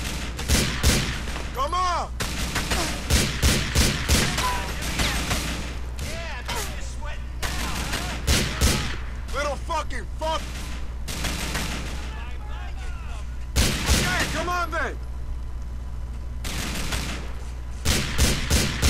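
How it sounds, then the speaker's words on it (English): Submachine gun fire in GTA IV: The Ballad of Gay Tony, heard as repeated rapid bursts of close, loud automatic shots separated by short gaps, over a steady low game background hum. "Do you realize I'm armed with a submachine gun, right?"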